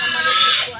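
A pig lets out one loud, shrill squeal lasting under a second, close by and fading at the end.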